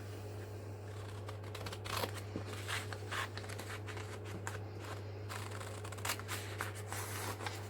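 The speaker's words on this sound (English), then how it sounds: "So where that mark is, I'm going to roughly fold and then just cut up the side." Wallpaper strips being folded and cut with scissors for a junk journal, a soft run of crinkling, snipping and rustling paper handling over a steady low hum, close and fairly quiet, with no speech.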